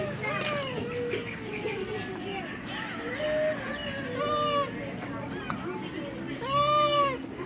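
Several cats meow repeatedly, with high wavering cries rising and falling close by, mixed with chatter from people and busy background noise.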